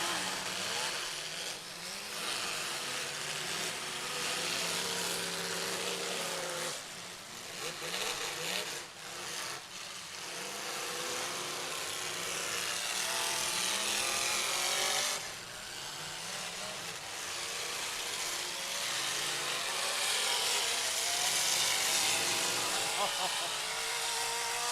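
A demolition derby car engine screams at very high revs, around 9,000 RPM, a loud sustained whine that rises and falls over a constant roar, with crowd noise and an announcer's voice running over it.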